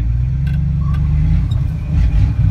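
A 1984 Dodge Ram engine runs steadily while the truck drives, giving a loud, continuous low rumble with slight swells in revving, close up and with no one talking over it.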